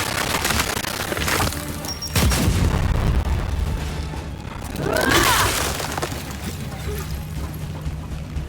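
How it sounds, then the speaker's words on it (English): A frag grenade bursts in Gears 5 amid game combat, with a heavy boom and shattering crash rising partway through, followed by a second swelling blast, while character voices call out over the action. "Throwing frag!"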